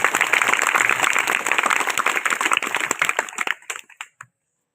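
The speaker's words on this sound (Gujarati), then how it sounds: "એમનું પણ જોરદાર તાળીઓથી સ્વાગત કરું છું." School audience at a primary school quiz competition breaks into dense, loud applause that holds steady, then thins into a few scattered claps before stopping.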